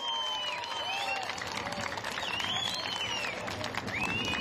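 A crowd at a Kağıthane summer sports school opening ceremony gives volleyball students a strong round of applause, dense clapping mixed with shrill whistles and cheers, steady and fairly near.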